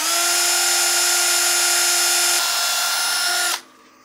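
Ash wood piece being sanded on a lathe for a turned succulent planter: a loud steady whine with a strong continuous tone that shifts slightly near the end, then drops away sharply as the machine stops.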